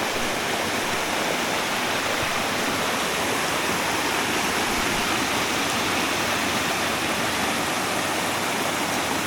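Water pours steadily down a waterfall at Big Hill Springs, a loud, dense, unbroken roar and hiss heard close up throughout, with no one speaking.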